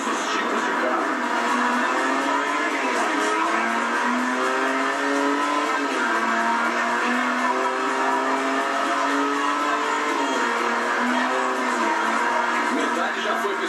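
Cars race at a festival in the Forza Horizon video game, with a loud, continuous engine whine that climbs in pitch and drops with each gear shift, accompanied by tire noise throughout.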